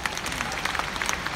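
A forum audience in Hong Kong gives a short round of applause for the leaders, brisk dense clapping heard at moderate distance for just over a second.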